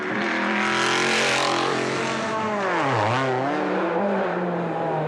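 Black Alpine berlinette rally car at the Tour Auto 2006, racing along narrow special-stage roads: a loud, close engine roars continuously, its pitch dipping as the driver shifts and then climbing again, with no other sound.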